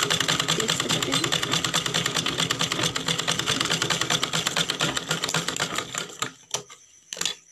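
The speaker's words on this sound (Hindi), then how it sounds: "अब यहाँ से इस तरीके से ये से ट्रायंगल सिलाई करूँगी" A sewing machine stitches a plain blouse in a rapid, even mechanical rattle that runs for about six seconds, then stops, leaving a few short clicks and bursts as the fabric is handled.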